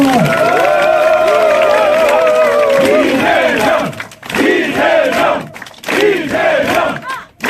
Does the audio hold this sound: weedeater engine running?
no